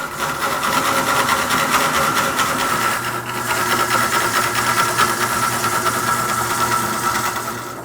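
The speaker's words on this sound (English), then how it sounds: "The first thing Philip does is rough out his bowl on an exact replica of his father's heavy-duty lathe." A heavy-duty wood lathe roughs out a bowl, with a steady mechanical drone and a gritty, continuous cutting hiss that pulses slightly as the tool bites, close and fairly loud, with no speech.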